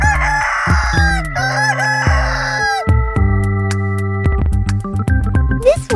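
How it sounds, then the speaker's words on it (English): Chickens and a rooster on a farm, loud and close, with a rooster crowing over a run of clucks and squawks in quick irregular bursts. "This is chicken. Chickens say, cluck cluck."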